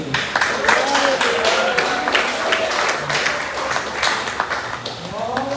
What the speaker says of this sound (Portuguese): Aleluia, palmas para Jesus.